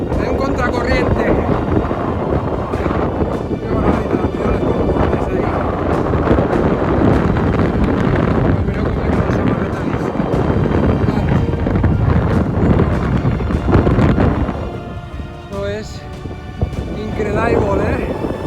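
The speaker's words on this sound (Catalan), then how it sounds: "Molt de vent" Strong wind buffets the microphone at the Albufera lagoon in Valencia, a loud, continuous roar of gusts with some rumble near a boat on the water, steady throughout with a slight dip near the end.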